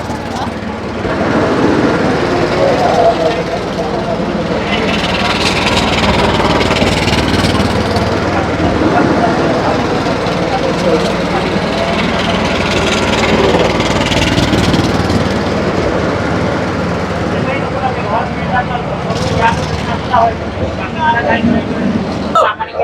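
An Autorun blower sprayer engine runs steadily as the machine turns in a tight space, a constant loud mechanical drone throughout with someone talking over it.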